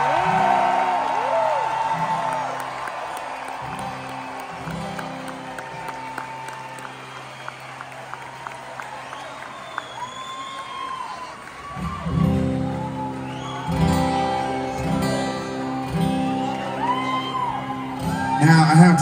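Concert crowd at a show in Gilford, New Hampshire, applauding, whooping and cheering for the drummer, swelling loudly in the second half after quieter murmur and a voice over the crowd early on.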